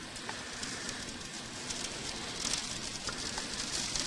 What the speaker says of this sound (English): you might be able to hear the rain and the sleet banging on the window here